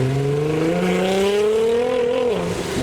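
A modified Nissan GTR accelerates away from a car show in heavy rain, its engine note rising steadily in a loud, close drone before dropping at a gear change near the end.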